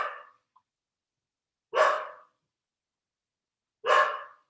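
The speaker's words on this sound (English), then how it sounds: "I'm sorry about the dog." A dog barks three times indoors, each a sharp, loud, close yap with about two seconds of silence between them.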